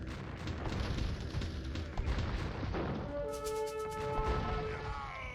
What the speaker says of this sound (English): Just look at the power of the bombard cannons